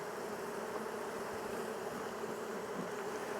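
A dense swarm of honeybees drones steadily around a beehive, a continuous close buzzing of many insects with no other sounds.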